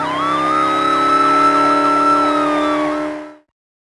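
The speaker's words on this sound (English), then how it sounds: "Yes, Policewoman Nutsy goes with the police car." Police car siren from a preschool video game, a loud, steady two-tone warbling wail with rapid regular pitch sweeps, lasting about three seconds before cutting off abruptly.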